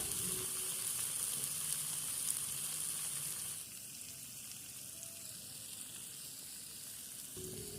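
Onion frying in a pan for a fish curry with cauliflower and eggplant, a steady broadband sizzle that drops somewhat in level partway through and then holds evenly, with no talking.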